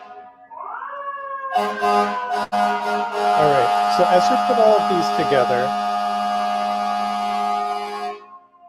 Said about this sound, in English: I don't know if you can hear, there are very noisy sirens outside.